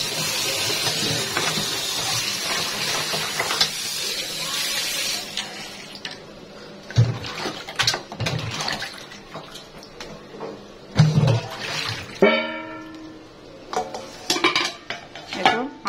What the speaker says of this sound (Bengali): এখন নর্মাল জল দিয়ে আমটা একটু ধুয়ে নিব।